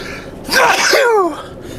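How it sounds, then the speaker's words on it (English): A single loud, close sneeze from a truck driver in the cab, a sharp drawn-in breath bursting into a forceful explosive release, with no talking. "Sneeze brewing."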